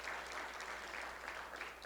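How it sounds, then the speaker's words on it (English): Audience applause at a city State of the City address in Blue Springs, steady sustained clapping from a crowd filling the whole moment, fairly even in loudness with no voices over it. "I'm going to give them a round of applause."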